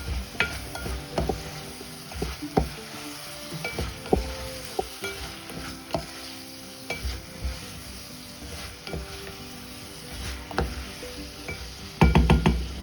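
Spoon stirring turmeric and chili through a bottle gourd curry in a pot, with irregular scraping clinks and a soft sizzle, ending in a louder burst of clattering.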